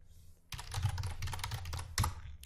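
Rapid clattering keystrokes on a computer keyboard as code is typed, close and fairly quiet, a dense run of clicks lasting a couple of seconds with a sharper tap near the end.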